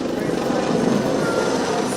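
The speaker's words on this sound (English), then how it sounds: "The Prachand is now getting into a slow dive and gathering momentum to come right in front of us" A Prachand attack helicopter dives at an Indian Air Force anniversary air show, its rotor noise a loud, steady, dense roar that holds through the whole two seconds.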